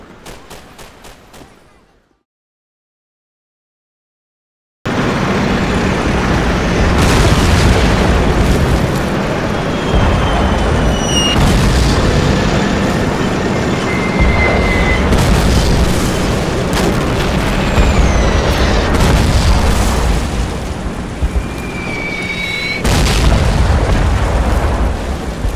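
Artillery barrages in a World War II strategy video game, with Soviet Katyusha rocket trucks and big guns: loud, continuous booming explosions and rumbling blasts, with whistling shells overhead, after a short quiet gap at the start.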